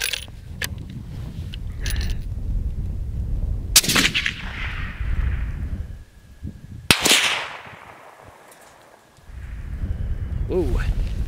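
Savage Stealth Evolution 6.5 Creedmoor rifle fired at clay pigeons 650 yards away, two loud sharp shots several seconds apart, each trailing into a rolling echo, with outdoor background noise and a voice talking between them.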